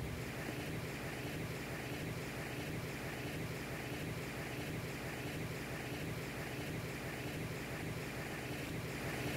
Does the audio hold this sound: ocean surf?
yes